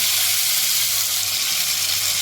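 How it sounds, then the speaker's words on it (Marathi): Steady, continuous sizzling of an onion, coconut and cashew gravy paste with a bay leaf frying in hot oil, close and even throughout with no talk. "ग्रेव्ही केली ती आता आपण परतून घेतोय आणि तेल सुटेपर्यंत छान परतून घ्यायची"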